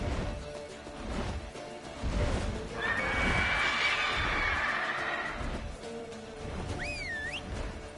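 A horse in The Witcher 3 lets out a long, shrill whinny and then a short rising and falling call, close and clear over galloping hoofbeats and rumbling game background.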